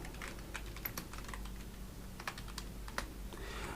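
Quick bursts of typing on a computer keyboard, close-up key clicks in an uneven rhythm over a low background hum.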